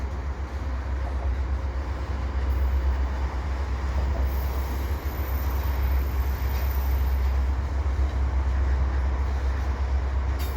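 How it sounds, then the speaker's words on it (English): CN and CP freight trains with their locomotives roll past at Dorval, giving a steady, loud rumble of rail cars and wheels that continues for the full stretch with no talk. "And I can hear locomotives."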